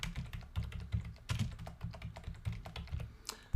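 Steady computer keyboard typing as a copyright notice is entered on a member site, close clicky keystrokes in uneven bursts for several seconds, ending in a sharp knock.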